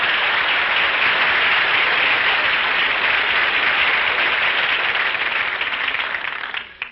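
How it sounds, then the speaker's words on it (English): A big, steady round of studio audience applause for Don Wilson on The Jack Benny Program, an old-time radio show, loud and continuous before tapering off at the end. "Folks, how about giving Don Wilson a big hand?"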